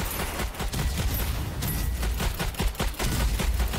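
Gunfire from a weapon in the video game Strange Brigade, a rapid run of sharp, evenly spaced shots repeating throughout, loud and close, with no talk over it.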